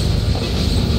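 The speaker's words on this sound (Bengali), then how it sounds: "13 মিনিট বিলম্বে ট্রেনটি প্রবেশ করছে তার দ্বিতীয় যাত্রাবিরতি স্টেশন নাঙ্গলকোট রেলওয়ে স্টেশনে" Paharika Express train entering Nangalkot railway station, a brief, steady, loud rumble of rolling rail cars with no voices.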